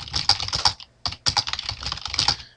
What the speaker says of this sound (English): just type some random stuff here